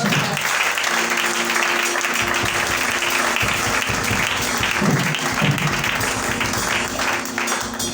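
A church congregation at a prayer rally applauds in a dense, continuous wash of clapping that holds loud and even from start to finish, with faint musical tones beneath.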